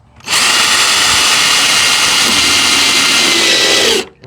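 A power drill bores a hole through a chicken coop wall for a wire, starting abruptly and whining loudly and steadily for nearly four seconds before stopping.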